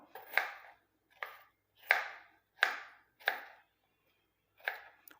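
A knife chops beetroot firmly on a cutting board, six sharp strokes at an uneven pace with short pauses between them.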